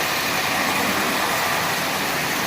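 A Marx 1938 Commodore Vanderbilt toy train running on its track, producing a loud, steady, even whir and rumble with no separate clicks or knocks.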